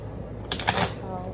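Tarot and oracle cards shuffled briefly, a quick soft riffle of crisp card clicks lasting under a second against quiet room tone.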